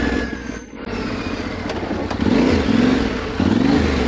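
A Yamaha Tenere 700 adventure motorcycle revving off-road, its engine close and loud, rising in pitch through repeated throttle blips over a constant rumble, with no talk.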